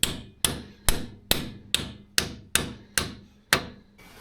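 Hammer blows drive a part onto the rear linkage of an MTZ tractor during repair, nine sharp metallic strikes at an even, steady rhythm, loud and close with no talk.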